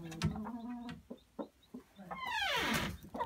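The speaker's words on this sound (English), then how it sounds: "There's our other rooster." A backyard rooster clucks in short, close, uneven bursts, then gives a louder drawn-out call near the end. Faint background chatter can be heard.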